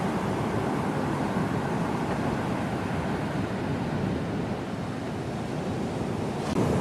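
Surf roars continuously off St Lucia with heavy wind buffeting the microphone, a loud, broad rush of breaking waves without pause.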